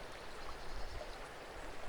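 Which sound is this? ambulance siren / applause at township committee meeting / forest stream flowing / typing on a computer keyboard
forest stream flowing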